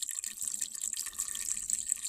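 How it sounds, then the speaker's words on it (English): Water poured over rose petals in a bowl while making rose water, a steady splashing, trickling pour lasting throughout at close range with no talking. "we're going to pour our water to cover the roses completely"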